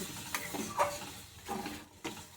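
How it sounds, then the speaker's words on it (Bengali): A spoon stirs a rohu curry with mustard-poppy paste and coconut milk in a pan. There are soft scraping strokes and a few louder clinks over a faint, steady sizzle. "এবারে এগুলোকে একটু নেড়ে দেবে, ভালো করে নেড়ে।"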